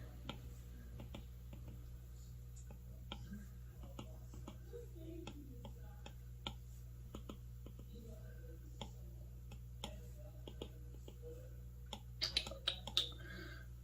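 Soft, scattered taps on a tablet's touchscreen keyboard come at an irregular pace, then a quicker cluster near the end, all quiet against a low steady hum.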